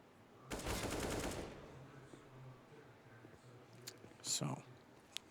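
An AK rifle in a Counter-Strike match on the Train map, NaVi vs Astralis, fires a dense burst lasting about a second. Scattered clicks and a few shorter game sounds follow.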